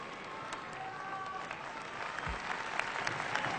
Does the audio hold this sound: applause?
yes